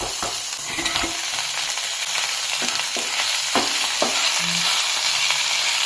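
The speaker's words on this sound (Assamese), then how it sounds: "এতিয়া আমি ভাজি থোৱা মাছ কেইপিচ এতিয়া দি দিম" Steady, bright sizzling of fried fish pieces added to a hot pan with star fruit, with occasional soft clinks and stirring sounds throughout.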